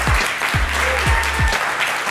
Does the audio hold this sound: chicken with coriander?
no